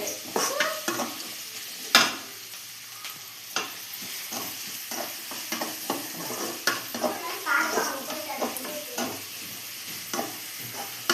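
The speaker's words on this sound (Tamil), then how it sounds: "வெங்காயம் வதக்கிட்டு தக்காளி போடலாம்." Onions sautéed and stirred in a pan at home, with a soft sizzle under repeated scraping strokes of a spoon against the pan, close and moderately loud throughout.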